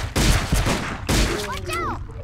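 Gunfire in the arcade shooter Silent Hill: The Arcade: two loud, dense bursts of rapid shots, the second followed by swooping electronic tones, with a voice speaking briefly over the action.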